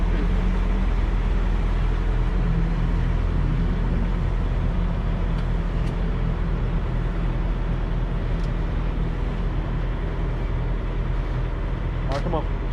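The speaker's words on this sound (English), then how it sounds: "What's that noise? That's the truck." A semi truck's engine rumbles steadily from inside the cab, a low continuous drone with faint road noise and a few brief clicks, and no voices heard in the clip.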